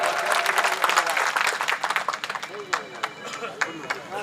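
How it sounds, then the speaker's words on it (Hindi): Audience applause for Sitaram ji at a public gathering, a burst of clapping with speech mixed in over it, dense at first and thinning into scattered claps toward the end. "धन्यवाद सीताराम जी के लिए, दोनों हाथों की जोरदार तालियां"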